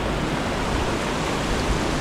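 A river flows steadily past the bank where someone sits, its broadband rushing wash continuous and fairly loud, with no voices over it.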